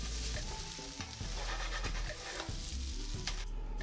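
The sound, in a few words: stir-frying scallions and bean sprouts into Pad Thai noodles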